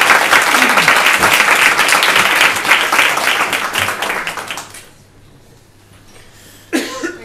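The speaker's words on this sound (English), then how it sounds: "Can we have a round of applause for it?" Audience applause fills a university library hall after a sustainability presentation, dense clapping for about five seconds before it fades out, then a brief new burst near the end.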